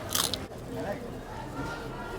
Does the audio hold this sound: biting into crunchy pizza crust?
yes